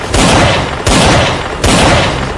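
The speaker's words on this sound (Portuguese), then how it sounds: "pega 2 revólveres e começa a atirar em direção ao céu" Revolvers fire toward the sky in three loud, sharp shots about a second apart, each blast followed by a ringing echo tail.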